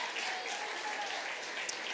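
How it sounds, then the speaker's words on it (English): Soft, somewhat distant applause from an audience at a high school awards ceremony, an even spread of clapping for two seconds with one slightly sharper clap near the end. "let's give them a big round of applause"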